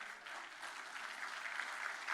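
Light, thin applause from a youth summit audience, a steady patter of clapping lasting a couple of seconds without cheering.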